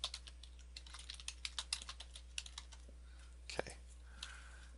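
Quick, light key taps on a computer keyboard, close and clear, in an uneven rhythm with a few brief pauses and a louder thump near the end, over a low hum.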